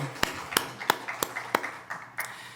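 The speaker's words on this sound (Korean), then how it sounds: "하나님께 박수로 영광을 올려드리겠습니다" A church congregation claps during a Sunday worship service, producing a series of about six sharp, evenly spaced claps that sound like single unison hits rather than sustained applause.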